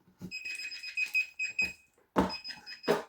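A Parkside pinpointer metal detector beeping as it reacts to a wristwatch: bursts of bright electronic tones in an irregular stutter, with a short pause before two final beep bursts, fairly close and clear.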